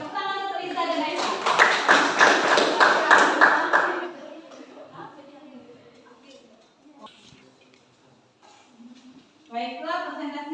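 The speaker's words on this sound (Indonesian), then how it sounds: "tepuk tangan untuk Riza dan Aisyah" Classroom applause, a dense burst of many hands clapping together for about four seconds, loud and close, followed by quieter room noise and a teacher's voice speaking afterward.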